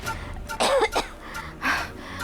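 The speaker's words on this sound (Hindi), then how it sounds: "खांस खांस के नींद खराब कर दी मेरी" A sick woman coughs in three harsh, close bursts, the first a quick double cough, then a single cough and a final heavier one after a short pause.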